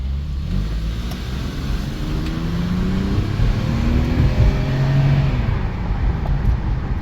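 BMW M54 inline-six in an E53 X5 revving from inside the car, a low, loud engine drone whose pitch climbs and falls through several rising sweeps.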